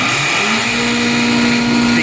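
A hammer mill fitted with a 4/64 screen for grinding salt crystals and limestone aggregate starts up. It gives a loud, steady mechanical drone with a sustained whine, close and continuous throughout.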